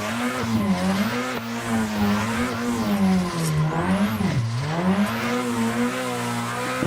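Drift car in the Assetto Corsa racing game with the e-brake pulled, engine droning at steady wavering pitch with a sustained tire squeal, loud and continuous, no talk.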